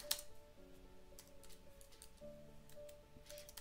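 Soft, quick keystrokes tap on a computer keyboard in a quiet room, faint clicks scattered over a low steady hum.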